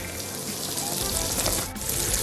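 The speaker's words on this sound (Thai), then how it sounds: "ผัดแครอทของเราให้สุกนะครับ" Steady sizzling and crackling of carrots stir-frying in a hot pan for japchae, with a brief scrape partway through.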